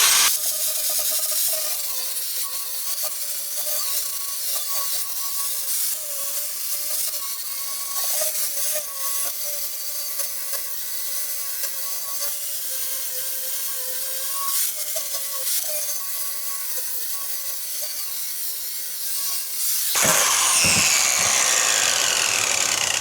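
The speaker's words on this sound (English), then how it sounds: "I'm using this grinder with this 60." Angle grinder with a 60-grit disc stripping rust from a Jeep JK steel bumper, a loud, close, steady whine with a wavering tone that runs continuously for about twenty seconds before shifting to a rougher, harsher scrape at the end.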